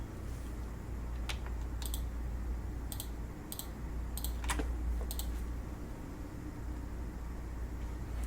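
Keys tapped on a computer keyboard in short bursts of clicks and clacks, close by over a steady background hiss, with no talking.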